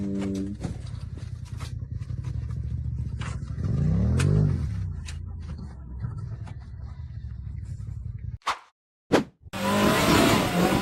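A black off-road buggy climbs a rough dirt slope, its engine revving hard and rising sharply in pitch before cutting out briefly and ending in a loud, harsh burst.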